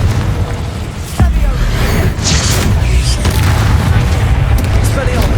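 Confringo spell blasts in Hogwarts Legacy: a sharp loud impact followed by sustained booming, crackling bursts and roaring rumble, with a shouted voice mixed into the fiery din.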